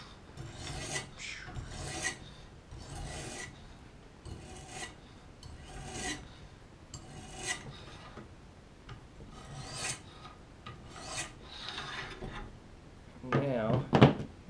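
A kitchen knife sharpened on oil stones, repeated close rasping strokes of steel across stone in an irregular rhythm, with a person talking softly between strokes and a brief clatter near the end.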